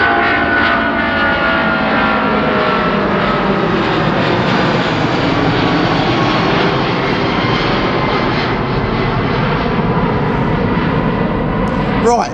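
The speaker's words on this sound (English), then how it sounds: "we got an airplane taking off" A loud, steady roar of an airplane engine at full power as the plane takes off, close by and continuous, with no break throughout.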